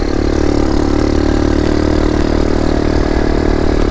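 A Boom Vader Grom clone motorcycle engine runs steadily, a close, continuous low idle-like chug with light mechanical clatter and no pauses.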